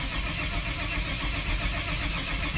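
A Vortec 350 V8 swapped into a GMC S15 cranks over, a continuous, fairly loud mechanical churn with a rough low rumble that holds steady for the whole short stretch, with no voices.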